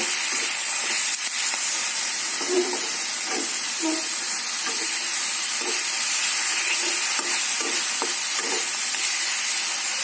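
Moringa leaf curry sautés in a pan, sending up a constant loud sizzle and hiss with soft, regular stirring scrapes on top.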